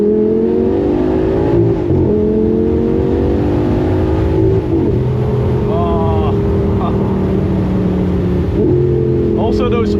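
A Lamborghini Gallardo V10 with a straight pipe exhaust roars loudly up close, its pitch sweeping down through several downshifts with sharp blips and crackles between gear changes. A voice talks over it.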